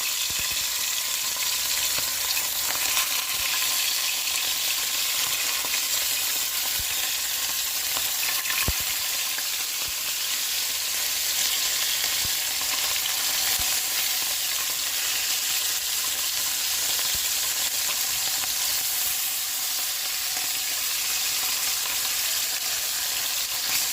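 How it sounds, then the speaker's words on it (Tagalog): Dried fish (danggit) fries in a hot pan, giving a dense, steady, bright sizzle and crackle that holds evenly throughout, close and alone with no talk. "Ay magpiprito pala tayo."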